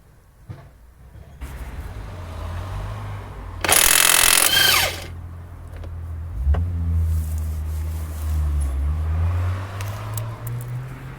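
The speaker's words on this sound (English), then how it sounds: "So now we get the impact wrench on the crank pulley nut." A high-torque impact wrench on the crank pulley nut of a Volvo D5 fires one loud, close, rattling burst lasting about a second, with a low engine-like hum before and after.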